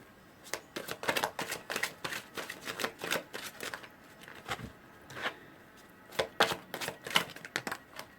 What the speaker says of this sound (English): I'm going to pull you a couple of advice cards.